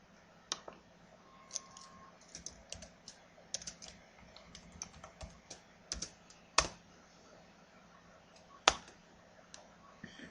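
Arrow keys on a computer keyboard are tapped while working in an Excel 2007 spreadsheet, giving a sparse, uneven series of sharp, close clicks with a few louder presses and no voices.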